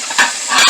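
Shrimp frying in hot grease for a seafood dinner, a steady close hiss and sizzle with crackling bursts throughout a brief moment.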